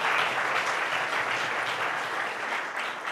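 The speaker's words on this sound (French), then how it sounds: "on peut applaudir" Steady audience applause at a school mindfulness conference in France, a dense wash of many hands clapping at even loudness throughout, with no voices over it.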